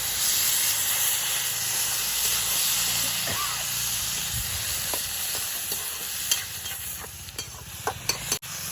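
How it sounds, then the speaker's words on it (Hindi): Steady hiss and sizzle from a hot cooking pot as water goes in, with clinks and stirring taps near the end. "तो मैं इसमें थोड़ा पानी भी डालूंगी अब।"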